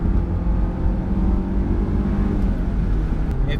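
A Honda S2000 engine holds a steady, droning rev through a downshift, heard from inside the car with no speech.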